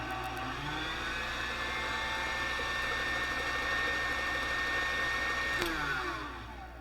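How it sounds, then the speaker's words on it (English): A stand mixer with its whisk attachment runs continuously, whirring steadily as it beats banana pudding, a loud close motor hum that eases slightly at the end. "Put that whisk attachment back on. Alright, we're going to mix this up till it comes together."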